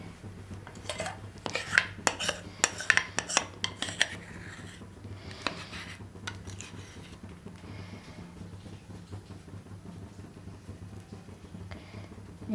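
A utensil spreads caramel pudding cake mixture across a pan, with repeated close scrapes and light metallic clinks that come in a busy run early on, then fade to quiet rubbing.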